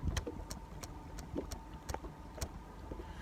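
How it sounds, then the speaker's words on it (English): A small engine idling on its own, its throttle tapped by hand in a series of short, regular bumps that each lift the pitch briefly before it settles back. "Trying to bump the throttle a little bit. You just gotta tap it with your hand, you bump it"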